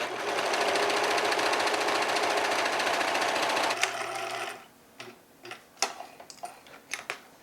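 A sewing machine topstitching a pocket on a thrifted bed sheet garment: a steady, fast, close mechanical whirring stitch for nearly four seconds, then it stops, followed by scattered light clicks and handling taps.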